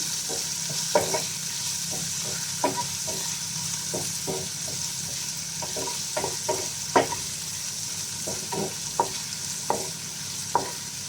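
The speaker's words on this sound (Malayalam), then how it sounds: "കൂടെ തന്നെ കട്ട് ചെയ്ത സവാളയും ചേർത്ത് കൊടുത്ത് നന്നായിട്ടൊന്ന് വഴറ്റിയെടുക്കാം" Sliced onion sautéing in a pan gives a steady close sizzle, with regular scraping stirs and light taps of the utensil against the pan, no voices.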